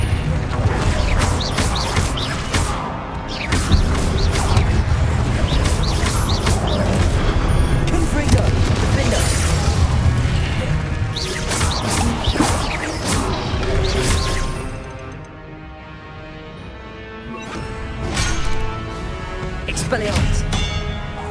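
Confringo spell explosions in Hogwarts Legacy combat, repeated loud blasts and whooshes over busy game sound, easing into a brief quieter lull near the end.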